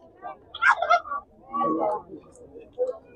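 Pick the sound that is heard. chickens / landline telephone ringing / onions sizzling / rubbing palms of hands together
chickens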